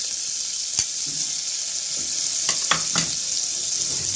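Chopped garlic and ginger fry in hot oil for chicken soup, giving a steady close sizzle throughout with a few brief stirring clicks and scrapes, and no voices.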